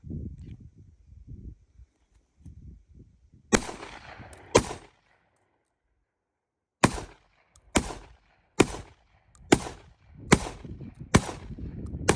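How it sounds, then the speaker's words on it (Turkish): A Bora Barak 99S automatic shotgun fires in rapid succession, giving roughly nine loud, sharp blasts at close range, separated by brief pauses, after some muffled handling noise. "Biraz seri atış yapacağım"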